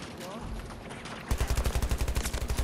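Rapid automatic gunfire in Battlefield 2042, a steady burst of evenly spaced shots in the second half, loud and close, following a stretch of quieter game noise with voices.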